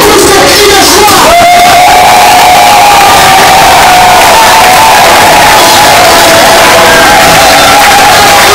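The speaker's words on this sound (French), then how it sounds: "Alors tous ces cris de joie." A church congregation erupts in loud, sustained cheering and joyful shouting, a dense roar of many voices with whoops filling the whole stretch, close and overwhelming.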